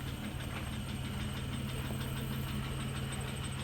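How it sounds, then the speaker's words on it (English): The engine of a 1993 Plymouth Grand Voyager SE, revived after 18 years abandoned, idles steadily up close with a continuous low rumble and a faint lifter tick. "That motor sounds good."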